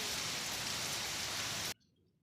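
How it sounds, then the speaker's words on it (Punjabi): Dense, loud rain pours down in a steady hiss, then cuts off abruptly into near silence. "ਬਾਰਿਸ਼ ਫੇਰ ਤੇਜ਼ ਹੋ ਗਈ"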